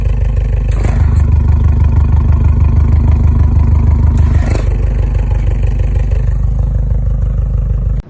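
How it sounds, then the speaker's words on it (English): A boxer engine idles loudly and close, a steady uneven burble with rhythmic pulsing that cuts off abruptly at the end. "The characteristic sound of a boxer engine"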